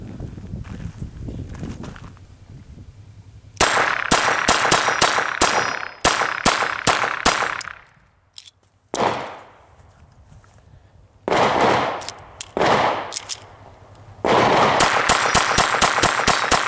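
A short-barrel Phoenix Arms HP22 .22 pistol fires CCI standard-velocity rounds in several rapid strings of sharp, close shots, with brief pauses between the strings.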